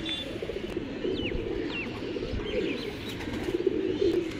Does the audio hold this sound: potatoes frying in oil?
no